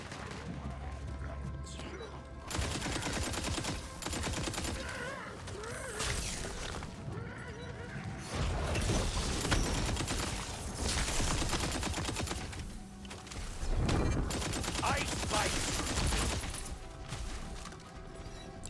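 A quad bow gun with a boosted fire rate shoots in a video game, producing rapid clusters of punchy shots and impacts that come in dense bursts separated by short pauses, loud and up close.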